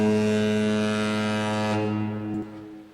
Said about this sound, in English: it plays the horn sound from the track